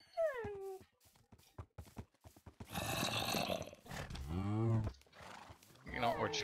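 Minecraft horse neighing, a loud whinnying call with descending pitch near the middle, among other in-game sounds and quick clicks of movement; people talk around it.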